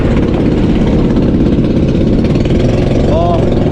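A small engine runs steadily and loudly after starting on a single pull, its mechanical drone close and continuous, with a voice briefly over it.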